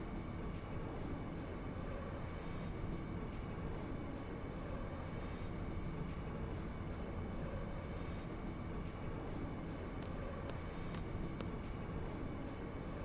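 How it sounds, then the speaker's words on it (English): Train in the Final Fantasy 8 video game, a steady low rumbling roar holding constant and fairly quiet throughout, with a few faint clicks near the end. "Trains, trains, trains."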